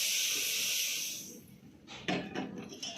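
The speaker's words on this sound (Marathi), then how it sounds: "इकडे चहा उकळती आहे" Tea boiling in a pan on a gas stove, a steady hiss and bubbling that fades after a second, followed by a few close knocks and scrapes of kitchen utensils.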